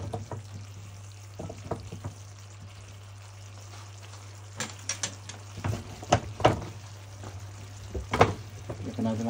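Chicken tapa frying in oil in a pan, with a steady faint sizzle, hum and scattered louder crackles and spatters toward the end.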